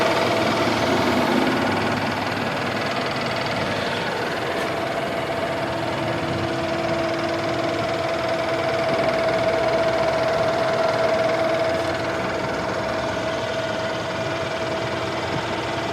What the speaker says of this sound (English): It is a direct injection engine with bi-turbos.